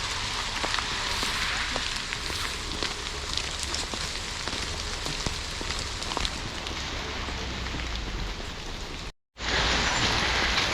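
Heavy rain pours steadily outdoors in South Queensferry, a dense, even hiss of drops on surfaces with a momentary cut near the end.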